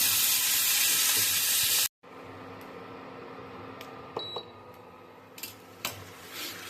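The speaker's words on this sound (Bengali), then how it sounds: "ধরুন আমরা মাংস দিয়ে দিয়েছি, এখন এখন আস্তে আস্তে ফুটছে কড়াইয়ে" Chicken frying and bubbling in plenty of oil in a wok in a hostel kitchen: a loud dense sizzle cuts out abruptly, then a quieter steady simmer follows with a few clinks and taps.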